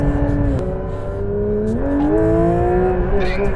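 A Porsche GT3 RS engine howls at high speed down a race track's back straight, loud and close, its pitch climbing steadily as it accelerates, with a faint rush of wind and tyres underneath.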